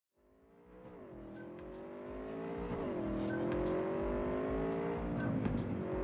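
Car engines rev and rise in pitch over steady road noise, one vehicle accelerating through gears with gear-shift dips, racing-game style.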